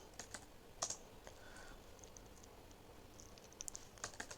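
Code being typed on a computer keyboard, soft rapid key clicks in uneven bursts, faint and close, with no talking.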